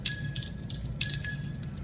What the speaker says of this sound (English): I feel like I need to ring a bell